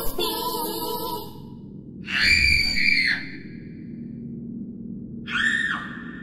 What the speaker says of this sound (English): It is demonic screams.